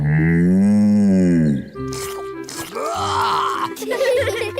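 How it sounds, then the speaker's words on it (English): A cartoon cow lets out one long, loud, wavering moo. Shorter animated sound effects and brief vocal noises follow. "Bessie's a cow."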